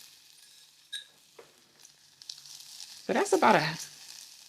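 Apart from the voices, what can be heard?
lentils sizzling and being stirred in a pan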